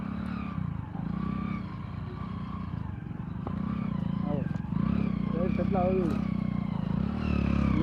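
A motorcycle labours up a rough hill track on a trek to a hilltop temple, its engine droning low and rising in uneven revs, close by, while people talk over it.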